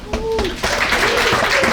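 Audience clapping at a stand-up comedy show, a dense wash of applause swelling up right after a brief voice at the start.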